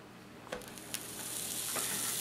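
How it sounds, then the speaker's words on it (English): A Cuban roast pork sandwich sizzles in butter inside a hot bread press, a soft steady frying hiss that builds slowly, with a couple of light clicks near the start. "you can hear that begin to sizzle. That's the butter that I have on the bottom part of it"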